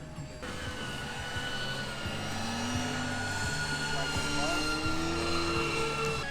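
A giant RC airplane comes in to land on a grass field, its engine droning steadily and growing slightly louder as it nears, with background noise and voices around.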